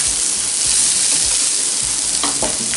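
Sliced medium onions hiss loudly in hot oil on a tawa for mutton keema, a dense, steady close-up sizzle with faint scraping underneath.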